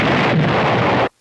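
A film explosion from a 1980 movie, set on an island: a loud, dense, sustained blast of roaring noise that fills about a second and then cuts off abruptly to silence.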